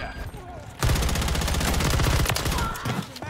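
Dense automatic gunfire from a Modern Warfare 3 match with a RAM-9 rifle, a loud rapid burst running nearly continuously after a quiet opening, with faint game sounds around it.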